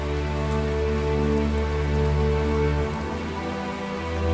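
Heavy rain pours steadily over a low, droning hum, a loud unbroken wash of sound.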